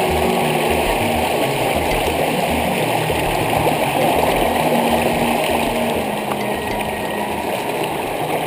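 A mountain stream flows and gurgles in a continuous, loud rush of water, close by and steady throughout, with no voices over it.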